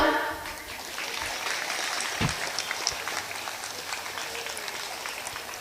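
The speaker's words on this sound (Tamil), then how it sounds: "இந்த 2 கேள்விக்கு குழந்தைகள் கொடுத்த கைத்தட்டல்லையே உங்களுக்கு புரிஞ்சிருக்கும்" Children applauding at a school annual day event, a steady wash of clapping from a large group that holds for several seconds at an even level, with no talk over it.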